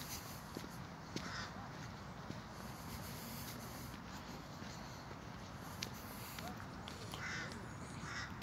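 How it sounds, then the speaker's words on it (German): Crows in a park on the path up to the Gloriette, giving faint, scattered caws at a distance over a quiet outdoor background with a few footsteps. "Man hört sie, die Krähen."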